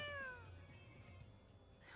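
A cat meows once in the Tales of Xillia 2 video game, a short falling mew at the start, fairly faint and followed by a soft game background tone with no talking.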